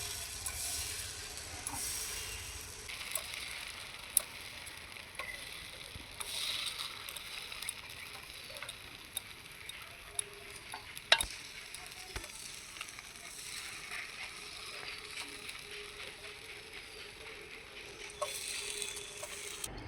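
Chhita roti batter spread thinly on a hot pan, a soft steady sizzle with scattered small clicks and taps of utensils, fairly quiet throughout.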